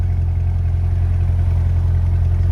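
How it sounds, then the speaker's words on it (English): A 2023 Corvette 2LT Z51 idles in track mode, a steady deep low rumble holding even and close throughout, with no revving and no voices. "That is the sound of the car idling in track mode."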